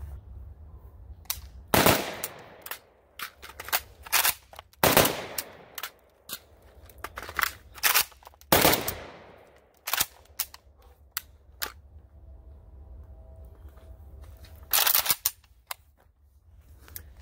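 AK rifle handling during a dry-fire reload drill: sharp isolated clicks and clacks of trigger, magazine and charging handle come in irregular clusters separated by quiet gaps, close and fairly loud.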